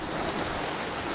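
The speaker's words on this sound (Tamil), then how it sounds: "செம்ம மழைங்க" Heavy rain pours steadily at Kodaikanal, a dense, even hiss of drops close by with no break and no voices over it.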